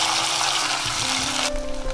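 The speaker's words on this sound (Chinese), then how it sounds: "加了生抽之后再翻炒2分钟" Duck pieces stir-fried with light soy sauce in a wok, a steady close sizzle and clatter of frying that shifts near the end as the pan is moved.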